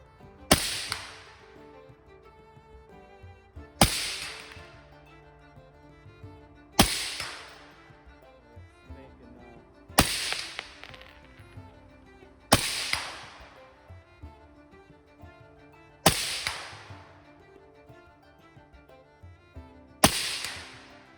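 Seven sharp suppressed shots from a 6mm ARC gas-operated rifle ring out at regular intervals of about three seconds, each a loud close crack with a short decaying tail.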